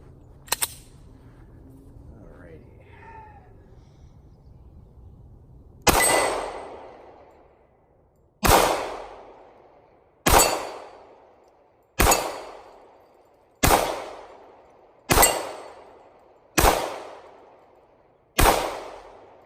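Smith & Wesson M&P 45c Gen 1 pistol fired at a range, eight loud, sharp shots spaced roughly one to two seconds apart, each echoing off, after a faint metallic clink and quiet handling at the start.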